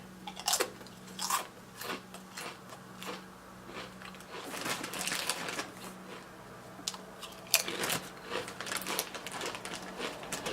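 Crunchy Doritos tortilla chips being bitten and chewed close to the mouth, with repeated crisp crunches and short pauses between bites, quiet room, no talking.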